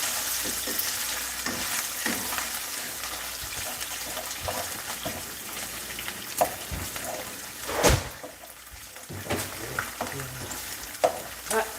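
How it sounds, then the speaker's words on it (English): Codfish fries in a hot pan with a steady, crackling sizzle throughout, broken by a few louder clatters and stirring scrapes nearby; no one speaks. "I am frying the codfish"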